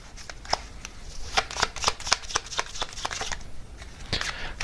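A deck of oracle cards is riffled and shuffled in quick, crisp bursts of flicking and snapping, close and distinct, with no talking.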